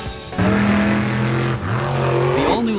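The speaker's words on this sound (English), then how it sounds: "The all-new Lucas Stabilizer Monster Jam Truck is all-new for 2022" Lucas Stabilizer Monster Jam truck, a 2022 off-road racer built on a school bus chassis, revving loudly up close: a deep engine roar that climbs, dips briefly, then surges again with rising pitch.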